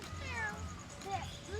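A cat meows a few times, close and fairly clear, with people talking around it.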